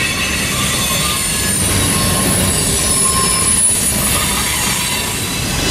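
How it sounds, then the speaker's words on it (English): A northbound train rolls steadily past close by, with loud continuous rail rumble, wheel noise and faint squealing, no voices. "That's a northbound train."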